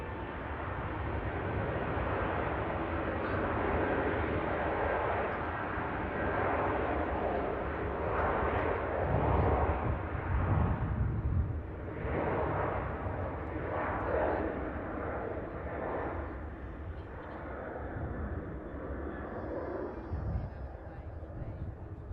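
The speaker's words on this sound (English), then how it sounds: "the aircraft's going to be followed by the Logan Air ATR 72-600 coming in from the Isle of Man" A Logan Air ATR 72-600 turboprop arrives at Manchester Airport from the Isle of Man, a loud, continuous broadband engine roar that swells and then holds steady, with no clear talk over it.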